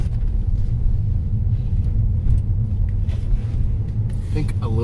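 A 2020 Mazda 6 Turbo driving over bumps, a low steady road rumble with occasional soft thuds, heard from inside the cabin under people talking.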